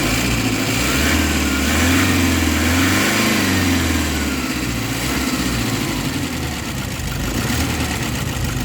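A Toyota D4D diesel engine with low power and throttle delay, idling loudly up close while the revs rise and fall slowly in a sluggish, lagging swell, with a steady low rumble throughout.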